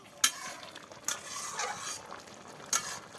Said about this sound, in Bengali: এবার এগুলো ভালো করে নেড়ে চেড়ে কষিয়ে নেবে।